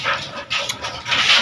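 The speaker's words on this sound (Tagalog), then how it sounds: "Pag alito si Brad, galit na galit yung mga aso sa kanya." Several dogs give short, agitated barks and whimpers close by, a noisy burst of angry canine sound with no talking over it.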